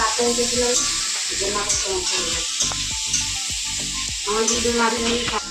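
Chicken sizzling as it fries in a pan in a home kitchen, a steady broad hiss running throughout with clinks and stirring scrapes on top and faint voices in the background.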